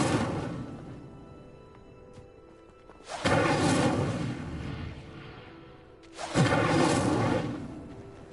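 An Incendio fire spell cast in the video game Hogwarts Legacy erupts as two loud, roaring whooshes about three seconds apart, each flaring suddenly and then slowly fading.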